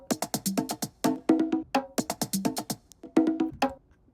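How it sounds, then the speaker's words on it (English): Three soloed bongo drum parts in an electronic music production, quick sharp hand-drum hits trading off at separate moments in a busy, syncopated pattern, close and dry. "So if we solo these three bongos, it's going to sound something like this."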